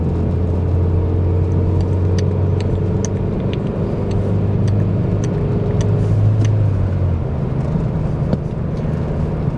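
A Hyundai Tiburon driving on a road at night, with a steady low engine drone and road rumble throughout, heard from inside the car, and faint clicks and rattles over the constant hum.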